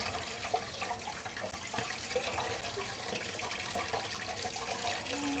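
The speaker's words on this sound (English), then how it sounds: "So let me wash up real quick." Tap water runs steadily into a kitchen sink during hand washing, a continuous soft splashing hiss that stays fairly quiet and even throughout, with no talking over it.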